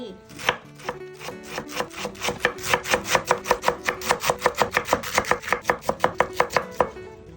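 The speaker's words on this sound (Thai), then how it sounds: "หั่นกระหล่ำปี" A knife chops cabbage for grilled seafood skewers in a rapid, steady run of sharp, close board strikes that continue without pause, with no talking.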